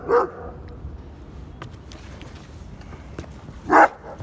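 A dog off its leash barks twice at a marina, one sharp bark at the start and another near the end, fairly close and loud over a steady outdoor background.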